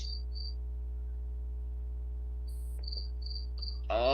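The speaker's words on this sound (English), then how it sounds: "Oh my god, those fucking crickets!" Crickets chirp in steady high pulses against a constant low hum, a few bursts spaced through the quiet, with a brief rustle at the very end.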